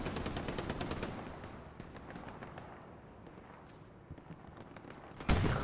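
Gunfire in the World War II shooter Hell Let Loose, a rapid string of sharp shots fading into scattered distant reports, ending with one louder close crack.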